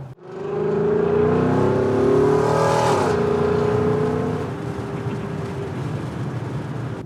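A loud car engine climbs through a rising rev, peaking after a couple of seconds, then drops and settles into a rumbling idle, heard close with no voices.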